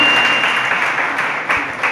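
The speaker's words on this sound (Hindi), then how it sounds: "आप तो कहते हैं ताली तो बजाओ" An audience claps during a Jain religious discourse, producing a dense, continuous wash of clapping for about two seconds that swells slightly near the end, with no talking.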